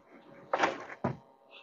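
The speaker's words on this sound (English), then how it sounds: "And these are soft closing drawers." Two soft thuds a half second apart come from a soft-closing kitchen cabinet drawer in a converted camper van, quiet and close, with faint room noise and no talking.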